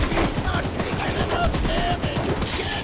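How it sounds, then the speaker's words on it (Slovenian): Rapid automatic gunfire in the horror game Choo-Choo Charles, a dense burst of shots fired without pause throughout. "Streljaj."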